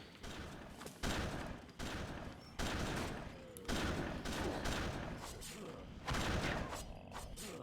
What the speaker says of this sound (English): Are we having a shootout with these monsters?